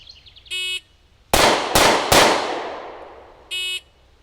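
Three sharp, loud handgun shots from a Springfield Hellcat fired at 9 yards, closely spaced with echoing decay, bracketed by two electronic shot-timer beeps before and after.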